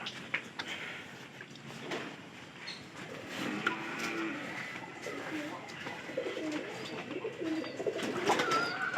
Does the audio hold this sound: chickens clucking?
no